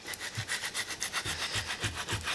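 A squeegee rubs printable vinyl onto its backing in quick, regular back-and-forth strokes, a close, scratchy swishing rhythm of about four strokes per second with no voices.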